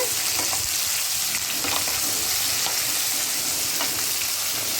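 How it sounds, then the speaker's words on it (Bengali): Pointed gourd with potatoes frying in hot oil for a vegetarian mixed-vegetable dish, a steady broadband sizzle with a few soft stirring scrapes, close and continuous, no talking. "তেল তেল হয়ে এসেছে। এবার আমি এটা দিয়ে দেবো পটলগুলো, যেহেতু পটলও সেদ্ধ হতে সময় লাগে। দিয়ে নাড়িয়ে"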